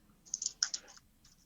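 A computer keyboard being typed on, a short burst of quick, crisp key clicks, close and clear, with a couple of lighter taps trailing off.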